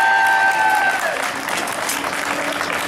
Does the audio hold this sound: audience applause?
yes